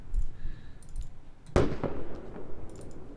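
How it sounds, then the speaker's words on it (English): A sudden explosion in the military shooter Squad on the Al Basrah map during an insurgent defense, a sharp loud boom at mid-clip with a rumbling tail, after scattered distant gunfire pops. "Careful, they just had a explosion."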